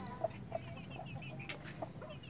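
Chickens kept in a converted cat cage cluck close by in short, scattered calls, a few sharp clucks standing out over a low background murmur, with no talk.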